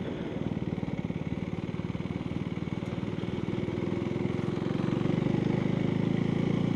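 A Husqvarna Svartpilen 401 single-cylinder engine drones steadily while riding, a close, even pulsing thrum that rises slightly in revs partway through, with no talk.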